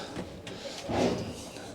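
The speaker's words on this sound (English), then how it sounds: "that extra work surface just slides in here, gives you that bit of extra space" An extension work surface slides into a kitchen unit inside a Benimar Mileo motorhome with a short, close rumbling scrape that peaks near the end of its travel. Faint background chatter and room noise sit underneath.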